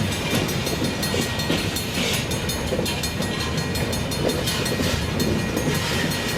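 Freight train cars rumble steadily past close by, a continuous loud rolling roar with faint rhythmic clatter and no voices.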